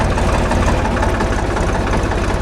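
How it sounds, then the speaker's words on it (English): A tractor's engine runs loud and close on an off-grid homestead, a steady low throbbing idle with a dense rhythmic chug and no voices over it. "So Melissa's driving the tractor."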